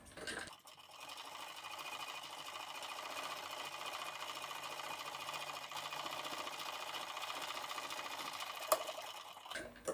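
Steady whirring of a sewing machine running continuously as it stitches a strip on a blouse, close and even for nearly the whole stretch, starting abruptly and stopping near the end.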